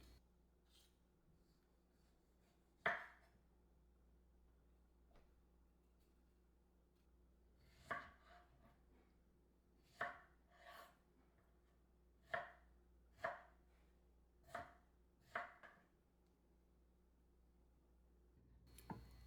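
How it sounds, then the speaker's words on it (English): A knife chops beets on a cutting board in about nine sharp, separate strikes over a quiet background, spaced irregularly and fairly close. "In the meantime, I am going to chop beets."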